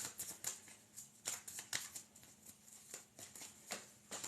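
Tarot cards being pulled from a deck and shuffled, giving a series of soft, close papery flicks and riffles in an irregular rhythm, with no talking.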